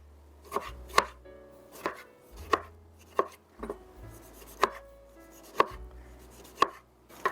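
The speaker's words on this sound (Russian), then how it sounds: "Средними кубиками режу помидоры." A knife cuts tomatoes into medium cubes on a cutting board, with about a dozen crisp, evenly spaced chops striking the board up close.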